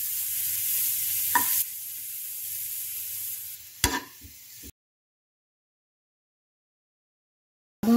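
Carrots and vegetables fry in a pan with a steady, close sizzle that fades after a few seconds, then a couple of sharp utensil scrapes before the sound cuts to silence.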